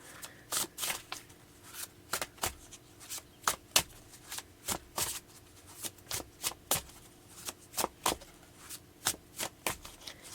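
Tarot cards being shuffled by hand, a long run of crisp riffling snaps, close and rhythmic, each burst separated by brief pauses, with no talking.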